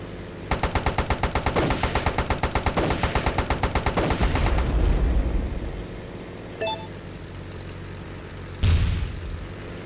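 Rapid gunfire rattles in a steady stream from a warplane in the Airfix Dogfighter video game, then gives way to aircraft engine drone and a deep boom, with no talk.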